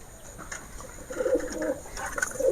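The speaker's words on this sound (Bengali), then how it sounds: "এদিকে ম্যান্ডাজিও ডাকছে" Pigeon cooing in a loft among kept birds, a soft, low, rolling coo repeated a few times close by, faint against a light background hiss with no talk.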